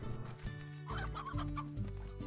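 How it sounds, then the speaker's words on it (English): Several chickens in the video game Slime Rancher cluck and murmur close by in a quick, busy chatter, with no talking. "it's chickens"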